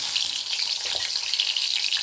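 Pointed gourd pieces fry in a little oil with a steady, bright sizzle, continuous and close, with no voices.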